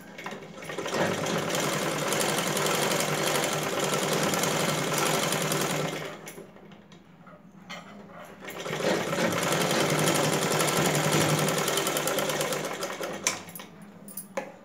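A sewing machine stitches a blouse in long loud continuous runs, stopping briefly around the middle before starting again with the same steady whir.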